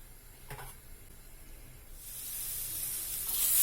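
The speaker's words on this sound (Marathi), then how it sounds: "हे बघा, हे अशा प्रकारे मी भाजून घेते दाणे" Fresh pigeon pea seeds dry-roasting on a griddle give a faint, low hiss that swells into a louder, brighter sizzle toward the end, with a soft clink early on.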